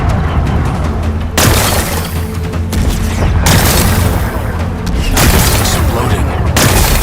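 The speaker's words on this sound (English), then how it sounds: "Gotta blast away some rocks, so I can expose the power cell." Rocks blasted apart by explosions in Horizon Forbidden West, a loud series of deep booms and rumbling bursts repeating over several seconds amid game music and effects, with a voice talking over them.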